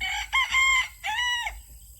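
Chickens on a homestead cluck and a rooster crows in two drawn-out calls, loud and close, with no talk.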